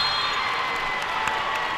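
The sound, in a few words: basketball crowd cheering in gym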